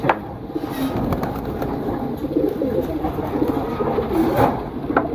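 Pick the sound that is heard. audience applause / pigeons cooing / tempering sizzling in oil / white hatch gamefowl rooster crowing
pigeons cooing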